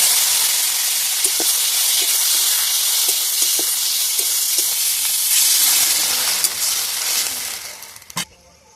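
Whole dried chilli, a bay leaf and a pinch of panch phoron sizzle in hot oil for a chutney tempering, a loud steady hiss that fades near the end before a single clank.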